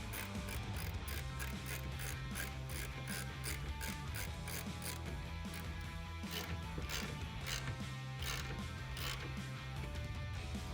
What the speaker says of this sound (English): grab a 3/16 Allen key socket, or you can use the Allen key they include and tighten this down.